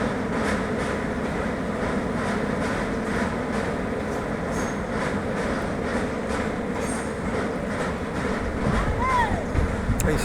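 A train rolling along an elevated track seen from a high viewpoint, a steady continuous rumble with faint rhythmic clatter of wheels on rails throughout, fairly close, with no clear talk over it.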